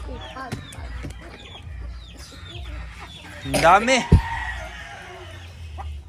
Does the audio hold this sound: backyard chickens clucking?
yes